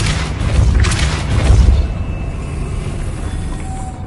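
A Depulso spell blast in Hogwarts Legacy booms out in a couple of heavy low thumps, loud and close, then decays into a lingering airy tail.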